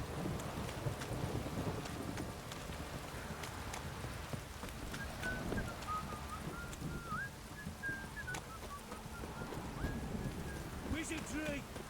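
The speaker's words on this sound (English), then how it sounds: "This downpour's a bastard, it is." Heavy rain pours steadily in The Witcher 3 game world, a dense continuous hiss with occasional thunder-like rumble underneath, while a whistling tone drifts through the middle.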